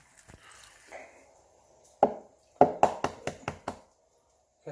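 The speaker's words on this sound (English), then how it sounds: "I'm just going to crack that egg in there" An egg being cracked onto bread in a kitchen while a toasted cheese sandwich is made, heard as one sharp tap and then a quick run of five or six close, crisp knocks, with a faint bit of sound before them.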